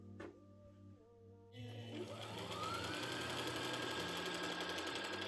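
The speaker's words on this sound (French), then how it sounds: "Et c'est bon, maintenant on va les coudre." A sewing machine stitches folded fabric straps, starting after a brief hum and then running steadily with a close, fast mechanical whir and rattle.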